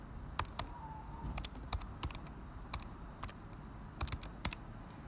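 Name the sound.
typing numbers on a calculator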